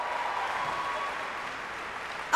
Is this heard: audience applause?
yes